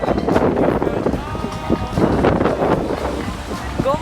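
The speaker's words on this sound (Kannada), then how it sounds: "ಗಾಳಿ ಜಾಸ್ತಿ" Strong wind blows at a busy Goa beach around Calangute and Baga. It makes a gusty, buffeting roar close to the microphone, with people talking over it.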